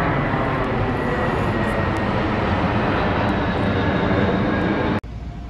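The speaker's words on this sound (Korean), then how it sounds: "또 비행기." An airplane flies overhead above a park in Sinwol-dong, Yangcheon-gu, a loud, steady broadband engine roar that fills the clip and cuts off sharply near the end.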